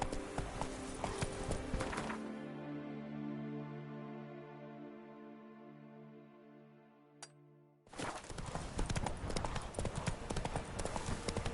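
Roach the horse galloping in The Witcher 3 on PS4 Pro, loud dense hoofbeats that cut out into a fading musical tone, then return abruptly at full strength.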